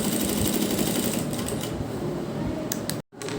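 An electric sewing machine runs steadily stitching along the edge of a garment neckline, a fast continuous close-up clatter that cuts off abruptly near the end.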